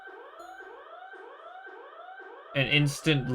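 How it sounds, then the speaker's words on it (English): A containment breach alarm in an SCP dating video game wails in steady rising sweeps that repeat about every three-quarters of a second. A voice then speaks loudly over it near the end. "The containment breach alarm blares to life."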